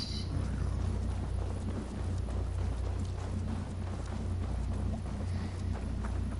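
Horse hooves gallop steadily in Assassin's Creed Valhalla, a dense continuous rhythmic thudding over low rumbling game ambience with no voices.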